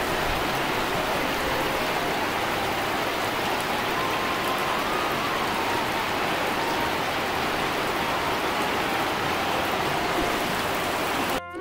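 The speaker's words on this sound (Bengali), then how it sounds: "বৃষ্টি চলে আসছে, আকাশ মেঘ করছে, প্রচুর পরিমাণে বৃষ্টি হবে মনে হইতেছে।" Heavy rain falls on a village in a loud, unbroken downpour, drumming close on surfaces throughout with no other sounds.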